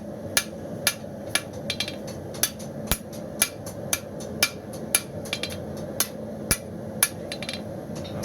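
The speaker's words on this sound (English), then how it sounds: "So now I'm going to spend time just refining this shape. Getting my flats nice and flat." A hammer strikes hot round bar steel being forged into a knife, refining the shape and flats; sharp, ringing blows land at a steady, close rhythm, a dozen or more in a row.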